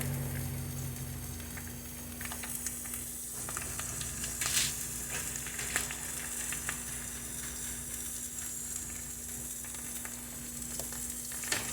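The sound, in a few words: battered mozzarella sticks frying in oil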